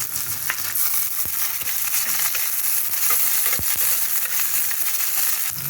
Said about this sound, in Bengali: পেঁয়াজটা হাফ ভাজা হয়ে গেছে, এখন আমি ক্যাপসিকামগুলো দিয়ে দিলাম